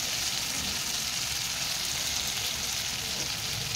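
Chopped tomato frying in a pan for a Bengali banana-flower and prawn dish, giving a steady, even sizzle that holds without a break for a few seconds, close by and alone.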